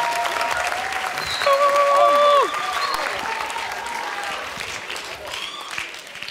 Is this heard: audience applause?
yes